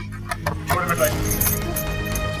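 Metal keys jangle and clink close by over a steady background rumble, with a few bright jingling bursts.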